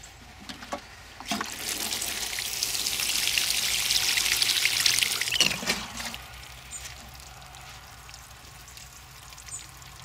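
Water poured onto a Metasequoia (dawn redwood) bonsai cutting in its pot of substrate, a soft splashing trickle that swells for several seconds and then fades to quiet, with a few faint drips afterward.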